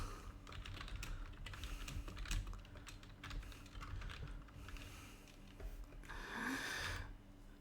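Fingers typing on a computer keyboard in bursts of quick clicking keystrokes, close and moderately quiet, with a short pause near the end.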